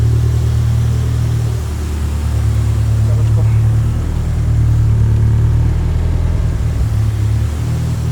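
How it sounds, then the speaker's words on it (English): Nissan S13 Sil80 engine idling nearby, a loud deep steady rumble with strong low harmonics and a slight wobble in pitch, running continuously while someone talks over it. "this car never sounded so healthy before, to be honest"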